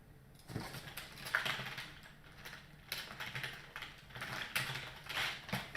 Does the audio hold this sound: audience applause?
no